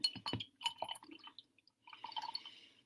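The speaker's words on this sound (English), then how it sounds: "So I'm mixing it in to try to dissolve as much of the glue as I can." A chopstick stirs glue into hot water in a glass jar, giving a few light clinks and liquid swishes close by, with a short quiet pause midway before softer stirring resumes.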